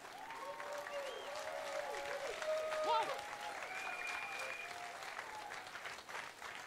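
A crowd claps steadily at an open-air memorial for victims of HIV and AIDS during Munich Pride, the applause dense and continuous while tonal music sounds through it.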